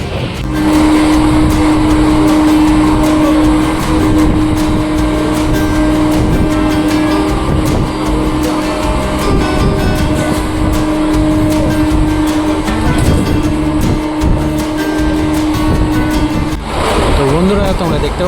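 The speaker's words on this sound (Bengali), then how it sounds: "আমাদের শিয়ালদা সিউড়ি মেমু এক্সপ্রেস ঝড়ের গতিতে এগিয়ে চলেছে" The Sealdah–Suri MEMU express runs at high speed: a loud, steady, close rumble with a constant droning hum, rattling beneath it, and a voice speaking over the noise.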